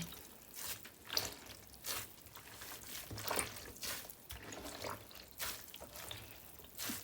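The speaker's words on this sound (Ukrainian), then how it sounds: "Далі я його ось так згрибаю і просто видушую водичку, наскільки це можливо." Water is squeezed by hand out of wet, hand-washed merino and cashmere knitwear, giving close, quiet squelches and trickling drips that come in uneven surges.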